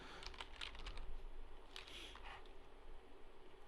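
Keystrokes on a Cherry MX switch gaming keyboard, a quiet scattered run of clicky taps alone over a faint background hum.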